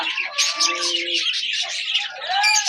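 Pigeons at a breeding farm give a close, continuous run of chirping and cooing calls, several birds overlapping with no voices present.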